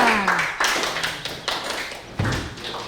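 Classroom applause in a sociology lesson as a student group comes forward, a short burst of scattered claps and taps mixed with talking voices.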